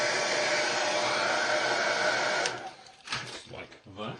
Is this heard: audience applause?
no